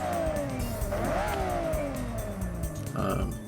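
A car engine, likely an LS V8, revs hard in Forza Horizon 6, its pitch climbing and dropping through gear changes in a loud, close, continuous roar.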